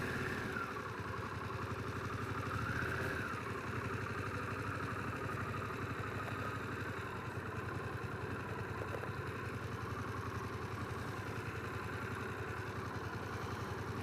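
A Harley-Davidson Pan America motorcycle idles close by, its engine holding a steady, even rumble with a light mechanical clatter that runs unchanged for the whole stretch, with no talking.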